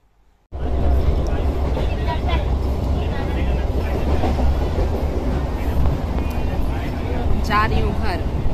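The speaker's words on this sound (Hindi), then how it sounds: "अभी ट्रेन में बैठी हूँ" Steady, loud rumble of a moving train heard from inside a carriage, a dense, continuous roar of wheels and car body that runs the whole time after a short quiet start, with faint voices mixed in.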